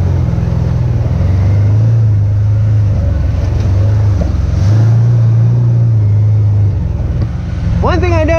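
A Can-Am Commander side-by-side drives wooded trails, its engine a steady, close, low drone that swells and eases slightly as it moves.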